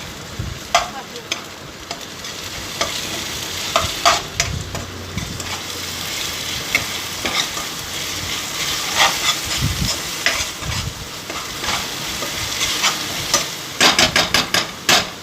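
Ginger garlic paste tossed into browned onions for a chicken jhol sizzles in hot oil while a spatula scrapes and knocks against the pan in irregular strokes, close and continuous.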